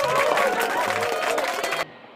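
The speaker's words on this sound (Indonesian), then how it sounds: "Tepuk tangan untuk Alisba" A primary school class gives brief, light applause for a student, with a burst of clapping and young voices that cuts off abruptly near the end.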